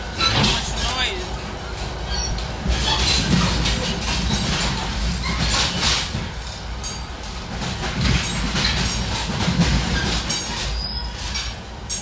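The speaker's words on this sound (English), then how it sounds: "The train is so noisy." Loud, continuous rumble of a moving train with rattling wheels and occasional metallic squeals, close by, with some voices faintly mixed in, in Charlotte, North Carolina.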